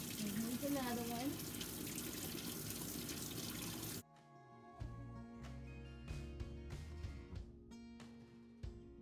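Water runs into a basin for felting knitted wool, a steady close rush from a tap under a voice, then quieter trickling and clinking splashes after the flow changes.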